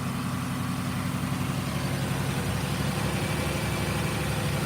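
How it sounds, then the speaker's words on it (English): A 2007 Ford Explorer with the 4.0L engine runs with a misfire, giving a steady, close, rough low rumble that holds for the whole stretch with no talk over it. "The engine is running like that. Why is she still misfiring?"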